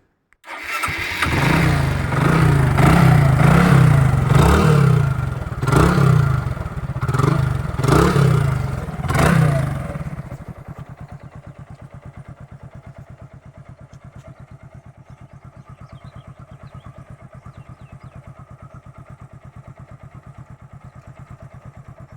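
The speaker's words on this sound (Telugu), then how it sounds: "ఇంజిన్ కండిషన్ ఎలా ఉందనేది కూడా మీకు స్టార్ట్ చేసి ఆ నాయిస్ ఎలా ఉందనేది కూడా వినిపిస్తాను" Hero Glamour BS4 2018 motorcycle engine cranks and fires loudly with a few surging revs over ten seconds, then settles into a steady, even idle that runs on alone.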